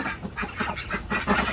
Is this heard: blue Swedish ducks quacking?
yes